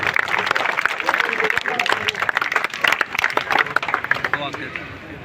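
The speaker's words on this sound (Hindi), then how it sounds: "आप तालियां बजा सकते हैं," Village audience applauding a wrestler at an honour ceremony, steady dense clapping throughout with voices talking over it and a few sharper claps standing out near the front.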